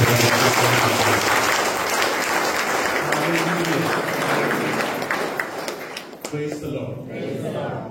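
A congregation claps hands together in a church service, a dense, sustained wash of applause filling the space, with voices audible over it and a brief dip near the end before the clapping resumes.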